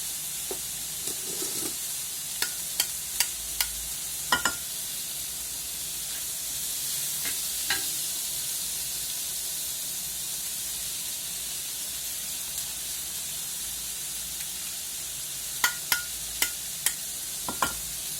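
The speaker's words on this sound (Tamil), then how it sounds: "போட்டு முட்டையை கொத்தி விடவும்" Eggs frying in a pan with onion and capsicum, scrambled into the mix, giving a steady soft sizzle broken by sharp spatula taps and scrapes in scattered clusters, close by and alone.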